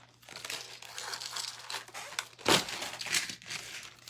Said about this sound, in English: basically, I'm just washi taping it down